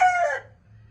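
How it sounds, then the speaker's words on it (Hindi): An Aseel rooster on a rooftop gives a single short, loud crow close by, cut off quickly, with no voices. "मुर्गा अजान दे रहा है,"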